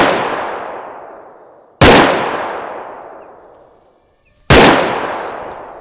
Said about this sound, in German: Guter Schuss.